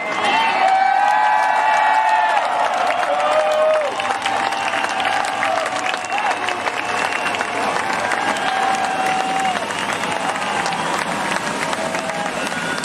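A large crowd at a dirt-track sprint car feature main event cheers and whoops, a broad continuous roar with shouts and whistles, while an announcer's amplified voice rings out over it.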